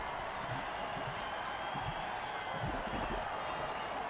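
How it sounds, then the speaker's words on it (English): Crowd cheering in an American football video game, a steady, continuous roar of stadium noise with a faint clapping texture, loud and even throughout with no distinct voices standing out. "And the crowd goes wild."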